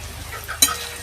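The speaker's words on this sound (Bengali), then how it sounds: "পেঁয়াজ কুচিটা দিয়ে দিই।" Chopped onion dropped into hot oil in a kadai with bay leaves, for a village-style duck curry, giving a steady low sizzle with a sharp burst of crackle midway, close and alone without talk.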